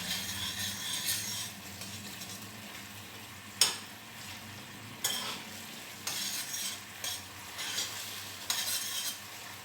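Sauce for a surf-and-turf meal simmers in a pan to reduce, a soft steady sizzle and bubble with scraping spoon strokes and occasional clinks against the pan, close by with no talking.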